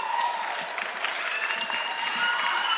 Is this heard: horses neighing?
no